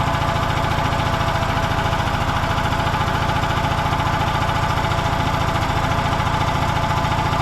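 A small gasoline engine fitted with a fairly large carburetor runs close and loud without a break, its steady drone rising and falling slightly as the speed surges.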